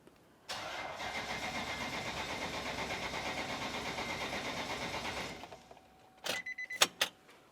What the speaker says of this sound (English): hop inside the passenger compartment and attempt to start the vehicle